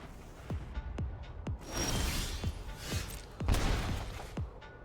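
Lightning Helix spell effect in the Magic: The Gathering digital card game, a dense crackling burst of sharp electric zaps and swooshing energy spread across several seconds, with repeated snapping transients over a sustained roar.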